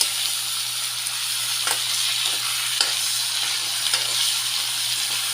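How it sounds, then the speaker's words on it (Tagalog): Chicken sizzles and sautés with aromatics in a pan for red adobo, a steady loud frying hiss with a few soft scrapes of stirring and a low hum underneath. "i-toast na natin kanina yung chicken natin at igigisa pa natin sa mga aromatics"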